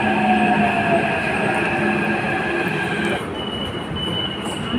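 A Hyderabad Metro train runs with a steady loud rumble and sustained high wheel squeals, the tone shifting and easing a little about two-thirds through, with no talking.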